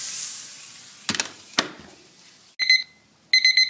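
A cooking timer beeps during a flat iron steak cook on a Komodo Kamado grill. Two short bursts of rapid, bright electronic beeps come near the end, preceded by a few sharp clatters and knocks, with no talking.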